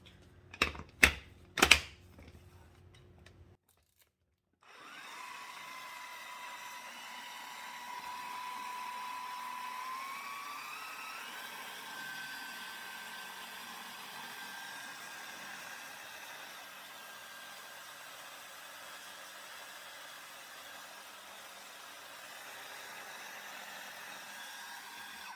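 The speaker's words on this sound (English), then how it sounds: "And let's blend." An electric blender whirs steadily and continuously, blending cottage cheese pudding with vanilla extract. A few sharp clicks and knocks come first, then a short silence before the motor starts and holds a constant drone.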